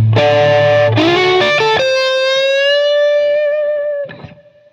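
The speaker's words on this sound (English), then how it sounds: "take our tone and kind of crisp it up, see what kind of crunchy tones we can get" A guitar plays a crunchy, distorted tone through a LiveMaster pedal: a few loud chords, then a sustained ringing note that fades at the end, with no talking.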